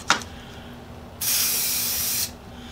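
A new can of Krylon Color Master spray paint gives a brief click, then about one second of steady loud hissing spray that cuts off abruptly, with no talk.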